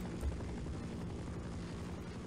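A helicopter in the Half-Life video game churns steadily with a low, dense rotor rumble and broad wash of noise that stays constant and fairly quiet throughout.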